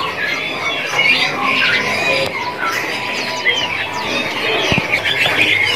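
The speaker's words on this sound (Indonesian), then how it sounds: "ini untuk penampakan dari burung cicak biru jantan" A male blue leafbird at a bird stall gives a steady run of bright, squawking chirps and whistles, close and busy, with other caged birds audible around it and no speech.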